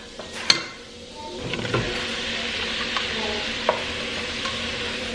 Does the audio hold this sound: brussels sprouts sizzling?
yes